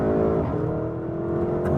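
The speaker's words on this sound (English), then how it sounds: "There's so much torque from this 4-liter bi-turbo V8 engine." A Porsche SUV's 4-litre bi-turbo V8 engine pulls hard under acceleration, a steady loud roar with rising tone, close by and with no voices.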